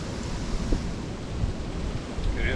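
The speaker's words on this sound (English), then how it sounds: "It's probably 15 mile an hour or better wind gusts right now." Strong winter wind gusts buffet an outdoor truck camping spot, a loud, continuous roaring rumble that swells slightly toward the end.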